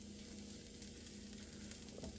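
Dried scallop and egg white fried rice sizzles and fries steadily in a hot pan, a constant crackling hiss at close range with no talking.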